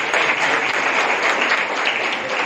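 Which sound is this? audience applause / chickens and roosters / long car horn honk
audience applause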